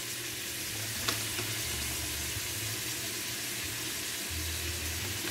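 Lobster being sautéed in a pan with dried parsley flakes, giving a steady, soft sizzle close by with a brief clink near the start and a low rumble underneath, with no talking.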